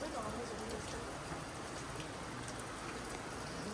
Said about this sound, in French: On est clairement en dessous de la cascade, genre derrière.